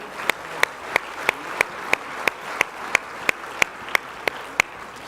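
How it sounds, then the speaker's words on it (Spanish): An audience at a Tecnológico de Monterrey council meeting claps in a steady, evenly spaced beat, sharp distinct claps repeating about three times a second over a soft background hush, with no talking. "Un fuerte aplauso, por favor."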